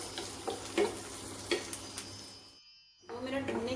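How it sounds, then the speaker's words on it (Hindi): Chopped onion sautéing in melted butter with cumin for paneer bhurji, a soft stirring sizzle with light scraping taps, fading into a brief silence before a louder crackling sizzle returns. "प्याज को मुझे ज़्यादा भूनना नहीं है, हल्के सौते करना है"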